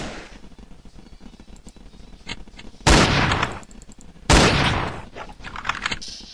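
Guns fire in the Roblox game Call of Robloxia, with two loud blasts standing out over a clicky, busy background of rapid taps.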